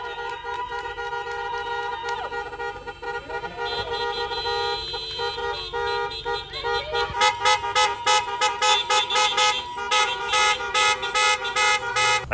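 Car horns beep again and again in a drive-by parade for quarantined students, sustained tones overlapping and then breaking into quick, rhythmic honks as the cars roll past close by.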